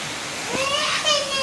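Heavy rain pours down in a steady, close, broadband roar that holds evenly throughout, with faint higher tones drifting over it.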